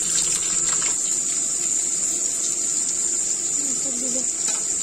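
Cumin seeds sizzle in hot oil in a wok while cooking kolija fry: a steady, fairly loud hiss that runs unbroken the whole time, with a faint voice underneath.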